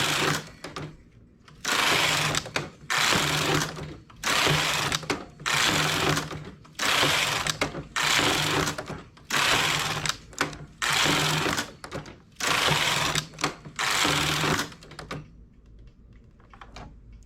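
A knitting machine carriage is pushed across the needle bed row after row, making harsh mechanical rattling sweeps of about a second each, evenly spaced with short pauses, close and loud.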